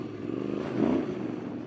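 Factory Yamaha Ténéré Rally motorcycle ridden at pace in the desert, a steady engine drone with a brief swell in the middle, fairly soft and continuous with no talk.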